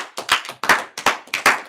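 Hands clap in a group applause for a church class, loud and close, in quick uneven bursts of several overlapping claps each.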